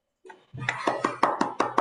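Several sharp, evenly spaced hand claps at a Toastmasters club meeting, ringing out close and clear in a steady rhythm after a brief murmur, as a toastmaster of the day is invited forward.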